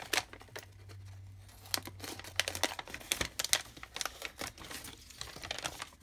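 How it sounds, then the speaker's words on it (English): A coffee bag is cut apart by hand, giving close, irregular plastic-foil crinkles and sharp snipping crackles with a faint low hum beneath, and no talking. "I just have to cut off the pieces and cut my bag apart."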